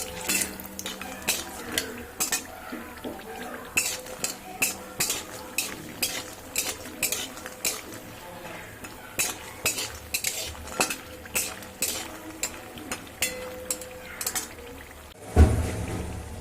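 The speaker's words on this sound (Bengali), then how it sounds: "আমি এবার বড়িগুলো আগে ভেজে নেব।" Bori lentil dumplings fry in hot oil in a pan over a medium gas flame, with a steady sizzle under repeated metallic clinks and scrapes from a spatula stirring them. There is one louder clatter near the end.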